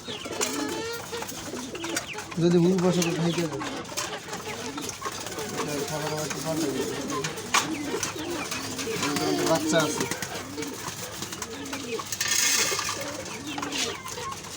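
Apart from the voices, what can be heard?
pigeons cooing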